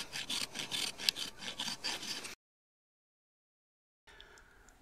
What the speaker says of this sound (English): Supporting the hoof with one hand as you rasp with the other increases the effect of each stroke